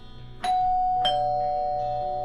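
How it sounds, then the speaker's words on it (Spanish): A doorbell at a home residence gives two clear chimes about half a second apart, the second tone ringing on and fading slowly, with no voices. "El timbre suena"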